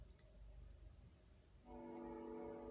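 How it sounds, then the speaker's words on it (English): A passing train rumbles faintly, then a sustained horn sounds and holds steady through the second half. "Yeah, another train."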